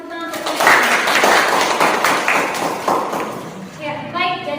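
Classroom applause rises quickly from a group of students and teachers, a dense burst of clapping that rolls on for several seconds before fading, while voices talk over its tail.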